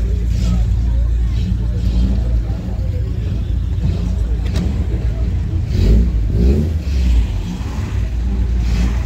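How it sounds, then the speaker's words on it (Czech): Vintage rally car engines idle and rev at the start of a veteran regularity rally, a steady close low rumble with swelling revs throughout, crowd voices talking underneath. "tady už se turujou motory"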